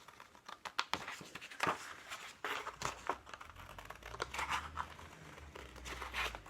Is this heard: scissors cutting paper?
yes